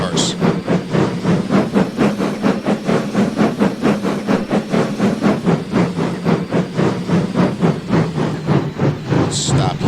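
A train engine in the railway video game BTWF rolls along the rails with a steady rhythmic chuff and clatter repeating about twice a second, with short hisses at the start and end and a steady hum underneath.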